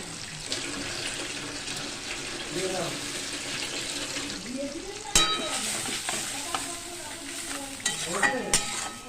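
Ground spice paste of almond and ginger frying in oil in a pan for a paneer dish. Sizzling and stirring scrapes run steadily, water noise joins at times, and a sharp clank sounds partway through, with no clear talk.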